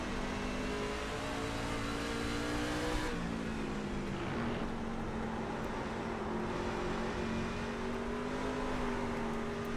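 Race car in iRacing at Lime Rock, its engine bogging down in a steady, droning hum that sags in pitch and strains without clearly revving up, continuous and close throughout.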